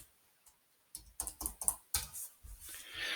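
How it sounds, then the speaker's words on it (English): Someone types a search on a computer keyboard, a quick uneven burst of close key clicks after a short pause, with no voices. "So I'm going to type in a search"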